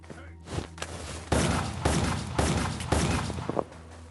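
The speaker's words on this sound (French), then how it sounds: "Utiliser ce flingue." Gun fired in the Westland Survival mobile game: a short burst of loud repeated shots with thuds in between, a voice speaking alongside.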